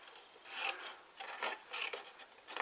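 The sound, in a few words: cutting cardboard along a score line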